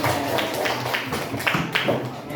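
A classroom of students gives a round of clapping, a run of sharp overlapping hand claps with uneven peaks, heard up close alongside some murmuring voices.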